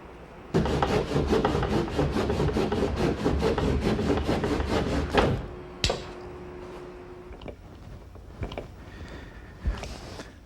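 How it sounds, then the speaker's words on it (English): A fresh batch of epoxy with screw-hole filler being stirred during boat repair, heard as a rapid steady run of close scraping, rubbing strokes, then a few scattered knocks and scrapes after the mixing stops. "now I'm mixing up another batch of epoxy, and I'm using a slightly different type of filler that's ideally suited to filling the screw holes"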